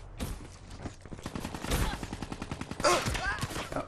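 Rapid bursts of automatic gunfire in a Call of Duty Black Ops 3 multiplayer match, close and loud, with dense shots rattling continuously for several seconds.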